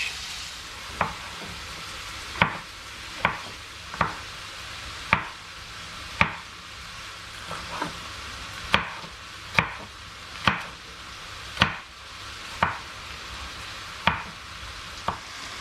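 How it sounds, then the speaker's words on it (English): Onions sizzle and fry in a pan for a chicken curry, a soft continuous hiss, while vegetables are chopped on a board nearby in sharp, fairly regular knife strikes, about one every second. "So while they're cooking, I'll cut up my other veg."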